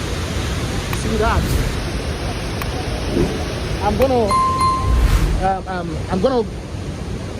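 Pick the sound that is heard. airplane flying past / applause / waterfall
waterfall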